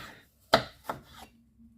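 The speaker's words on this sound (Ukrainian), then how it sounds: "нарізаю такими ж тонюсенькими-тонюсенькими такими пластиночками" Two crisp knife cuts slicing plums thinly against a board, close and fairly quiet, with a short pause between them and nothing else around.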